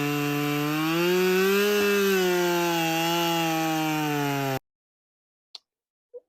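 Chainsaw mill cutting into a redwood log on the first cut, a loud, steady droning whine that holds for several seconds and then cuts off abruptly, followed by two faint knocks.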